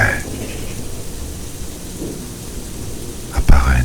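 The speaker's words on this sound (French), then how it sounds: "danse sous la pluie, danse sous l'orage" Steady rain hiss with low rumbling thunder throughout, a louder thunder crack near the end, under a sensual French-language reading.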